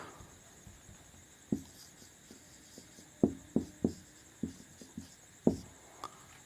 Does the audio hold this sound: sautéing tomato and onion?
no